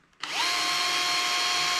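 An electric power drill fitted with a 1.5mm bit is drilling a hole for a scroll saw picture. It spins up quickly and holds a loud, steady high whine at close range, with no talking.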